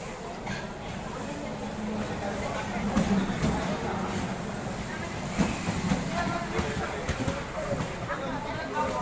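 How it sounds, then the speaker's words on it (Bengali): A train arriving at Batkulla station rumbles and hisses in a continuous, moderately loud roll with faint rattling, while people talk nearby. "ওই দেখা যাচ্ছে ট্রেনটা আসতেছে"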